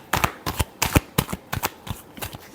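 Tarot cards being shuffled by hand, a quick run of about eight crisp riffling bursts in a steady rhythm, close and clear with no talking.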